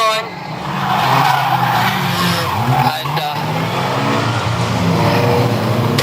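Race cars at Bovingdon Raceway, with engines roaring and tires skidding close by, loud and continuous, while a commentator talks over the action.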